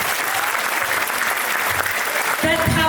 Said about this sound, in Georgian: გთხოვთ კიდევ ერთხელ მივესალმოთ ხუხარი აპლოდისმენტები